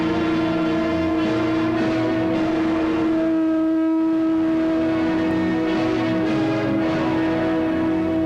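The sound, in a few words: conch shell being blown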